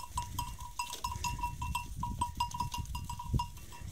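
A flock of well-fed sheep being driven and penned on a farm at dusk, with repeated bleats and calls rising over a busy, rustling herd at close range.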